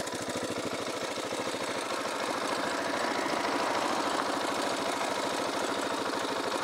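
A KTM 690 SMC single-cylinder motorcycle engine running loud and close, a steady throbbing pulse that swells slightly as the throttle opens, continuous with no talking.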